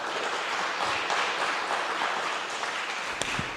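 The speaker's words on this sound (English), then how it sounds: "applause for our new and continuing leaders in the" Steady applause from a congregation at a church annual meeting, a dense wash of clapping filling the room at a fairly even level throughout, with no voices standing out.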